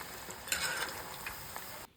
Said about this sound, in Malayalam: കായ് തമ്മിൽ ഒട്ടിപ്പിടിക്കാൻ ഇങ്ങനെ ഇളക്കി ഇളക്കി കൊടുക്കണം